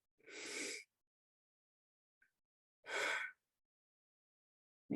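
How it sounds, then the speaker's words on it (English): Two slow, deep breaths, each a soft airy rush lasting under a second, separated by quiet, close and faint with no talking. "we'll begin with 3 deep breaths"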